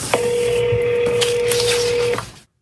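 A single steady telephone tone holds for about two seconds, sharp and loud, with faint clicks and room noise around it before cutting to silence.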